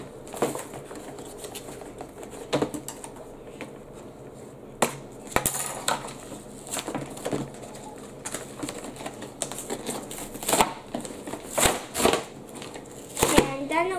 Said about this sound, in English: let me just peel the cardboard off